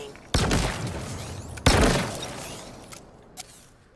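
The shock rifle in Halo Infinite fires two loud, crackling energy blasts about a second apart, each trailing off in a sizzling decay, followed by fainter pops.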